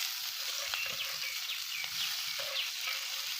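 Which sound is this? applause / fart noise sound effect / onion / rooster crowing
onion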